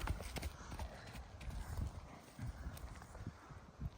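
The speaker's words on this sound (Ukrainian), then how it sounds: "Ну, діловатий такий коник, як цей" Horse hooves clop steadily at a walking pace, close by, with a low background rumble and faint voices mixed in.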